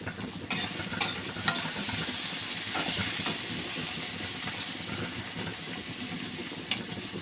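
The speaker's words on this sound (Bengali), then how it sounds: "এবারে এই টমেটো কুচিয়ে রেখেছি সেটা দিলাম।" Chopped tomato fries in a hot pan over a gas flame, a steady close sizzle broken by several sharp scraping strokes of a spatula, with no talk.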